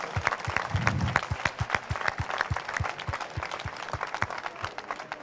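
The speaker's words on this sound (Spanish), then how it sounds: "un aplauso para ellos," Audience applause at an event, a quick run of distinct handclaps from a modest crowd, close and lively, steady across the few seconds with a brief murmur of voices early on.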